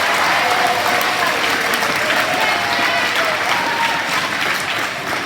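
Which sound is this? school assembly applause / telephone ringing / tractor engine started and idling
school assembly applause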